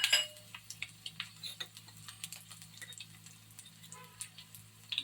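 Mustard seeds crackle in hot oil for a dal dish, giving a steady run of small, sharp pops and ticks at close range over a quiet background.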